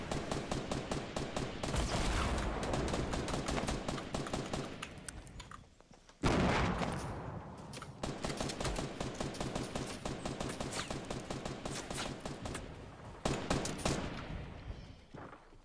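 Rapid automatic gunfire in the Fortnite battle royale game, loud dense bursts of shots that rattle on almost continuously with a brief gap before resuming.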